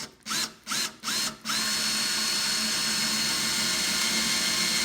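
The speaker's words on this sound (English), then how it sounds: "Let the self-tapping drill, as we call it, do the work." Power drill driving a self-tapping screw into a vehicle's transmission pan: four short whirring bursts, then one sustained steady run of the motor, close and loud with no talk.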